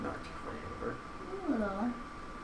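A house cat gives a clear drawn-out meow near the end of the clip, rising and falling, heard close over background chatter and room noise.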